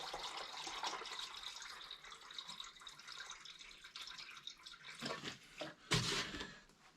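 Coolant trickles and splashes as it is poured from a jug into the replacement radiator of a Honda CBR600 F4, a faint, uneven liquid pour with a couple of louder gurgles near the end.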